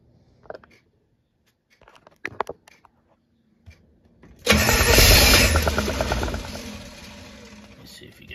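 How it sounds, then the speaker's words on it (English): Car engine cranking with the ignition on while checking for fuel and spark, a few faint clicks first, then a loud sustained burst of engine noise that slowly eases off, close to the listener. "I'm going to turn the ignition on. And as I crank this, we should start seeing spark here"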